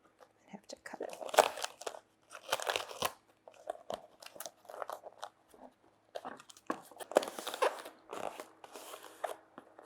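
Scissors cut through cardboard for a homemade periscope, making crunchy, crinkling snips in irregular close bursts with short gaps between them.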